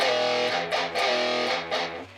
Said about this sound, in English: 2 open E's palm mute. You're going to do that twice.